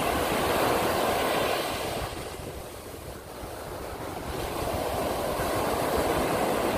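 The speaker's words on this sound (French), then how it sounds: "le vent qui souffle" Broad, steady rushing of wind and surf by the sea, swelling and easing slightly midway, with no voices.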